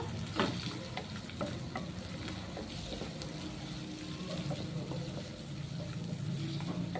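Amaranth leaves for a curry stir-frying in a pan, a steady sizzle with repeated scraping and stirring clinks running throughout, close and moderately loud.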